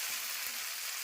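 A fish curry mixture being sautéed uncovered in a pan, a brief soft sizzle with a steady hiss and faint stirring underneath.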